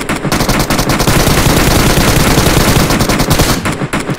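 Loud, rapid automatic gunfire from PUBG Mobile sounds in a sustained, dense burst that fills almost the whole stretch before cutting off near the end.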